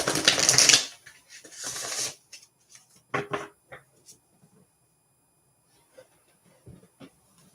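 A deck of tarot cards is cut and shuffled, giving a loud riffling burst followed by a few shorter card slaps and soft taps, close by, with occasional quiet talk.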